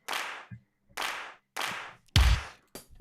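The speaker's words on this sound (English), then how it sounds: "I'm not that keen on this clap." Drum machine clap sample triggered in a TidalCycles live-coded pattern: five sharp, bright clap hits with short decaying tails, spaced roughly half a second apart, one heavier with a low thump, alone with no talk.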